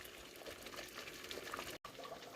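Wide egg noodles boil in a pot of water for chicken soup, a faint, steady bubbling and rolling simmer with a brief dropout near the end, heard alone without talk.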